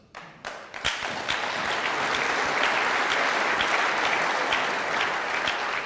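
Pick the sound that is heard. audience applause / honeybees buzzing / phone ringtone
audience applause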